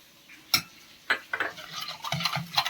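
A spoon stirs amaranth flour into a pot of kadhi, scraping and clinking against the sides in a few sharp knocks followed by quieter, irregular swishing strokes, close and fairly soft, with no talking.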